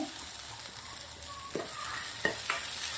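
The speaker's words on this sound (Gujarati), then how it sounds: "હવે આપણે સરસ મજાનું શેકાવા આવી ગયું છે હજી બે મિનિટ સુધી આપણે મસ્ત એને શેકવાનું છે" Apple and carrot halwa roasting in a pan: a soft, steady sizzle with occasional scraping stir strokes, fairly quiet and close, no voices.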